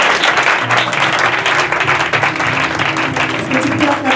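Church congregation cheering and applauding together, a dense, steady wash of clapping and shouts that fills the whole stretch at full volume, with voices mixed in.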